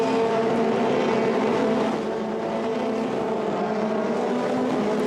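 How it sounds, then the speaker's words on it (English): Formula Renault 2.0 race cars pass at Monza, their high-revving engines giving a steady loud drone throughout, with no talk. "Through go the 2 Tech 1 cars."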